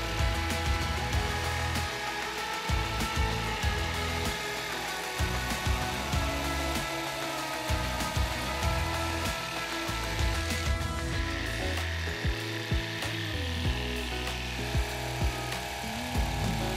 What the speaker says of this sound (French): Une scie sauteuse va permettre de soigneusement scier la forme esquissée.